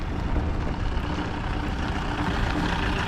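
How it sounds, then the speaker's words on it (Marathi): Road traffic rumbles steadily near a tunnel entrance on a newly built expressway as a car and a pickup truck pass, a continuous broadband roar of tyres and engines with no voices. "आता आणखीन एक कार आले, पिकअपसुद्धा आले"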